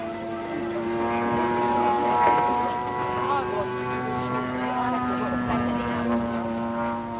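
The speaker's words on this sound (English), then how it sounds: "uses McCulloch engines for his models, and they're always reliable" Giant scale model airplane powered by a McCulloch engine flying at a 1989 model meet at La Ferté-Alais, a steady harmonic propeller drone holding throughout with a voice speaking over it.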